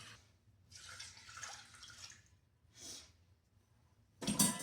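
Water pours through a water filter used in a kitchen for cooking rice, with intermittent gentle splashing and trickling bursts between quiet pauses and a louder pour at the end.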